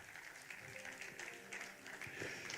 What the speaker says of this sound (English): let's make the chairman a big round of applause for me